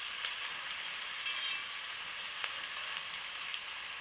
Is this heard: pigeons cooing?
no